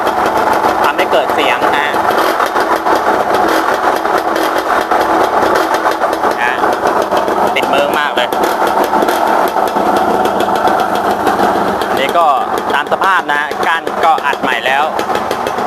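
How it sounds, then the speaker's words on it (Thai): A Yamaha TZR motorcycle engine idles loudly and steadily with a rattling, whirring drive gear noise, while a person talks over it. "มีแต่เสียงเฟืองขับนะฮะ"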